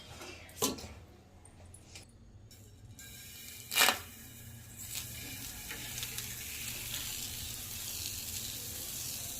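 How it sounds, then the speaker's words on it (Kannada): Roti cooking on a hot pan in a home kitchen gives a soft, steady sizzle, broken by a couple of sharp clicks near the start and again around the middle. "ಈಗ ನಾನು ರೊಟ್ಟಿ ಹಾಕ್ತಾ ಇದ್ದೀನಿ"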